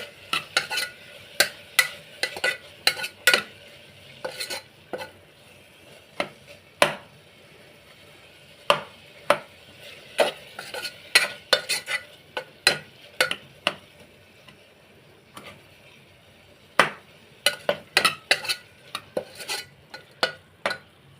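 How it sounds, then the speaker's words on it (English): Broken wheat daliya ingredients stirred in a pan over medium-low flame, with sharp irregular scrapes and clinks of a spoon against metal, close and clear, over a faint sizzle. "now I am mixing all the ingredients very well"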